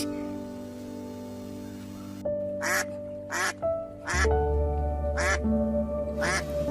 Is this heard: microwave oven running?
no